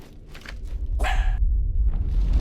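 A pet dog barks in a short burst of sharp, close barks, with a softer yip before and after, loud against a low room hum and no talk.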